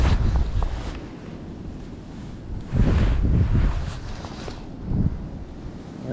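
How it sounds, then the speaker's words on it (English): Wind buffets the microphone at a fishing lake in a steady rumble, swelling into stronger gusts at moments, with no talk over it. "The wind's really naughty."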